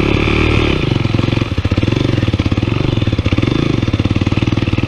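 A Honda NX motorcycle engine runs while being ridden on a dirt track, producing a close, steady rumble with a fast pulsing firing rhythm throughout. No voices are heard.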